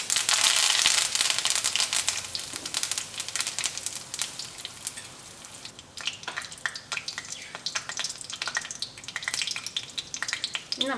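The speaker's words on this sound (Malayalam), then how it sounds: "ഇനി നമുക്കിതിലേക്കൊന്ന് വേപ്പിൻ്റെ ഇല ഇടാം." Curry leaves hit hot oil with fenugreek for a Kerala Kottayam-style fish curry, crackling and sizzling loudly at first, then settling into a continuous busy frying hiss with sharp pops and spatters and no voices.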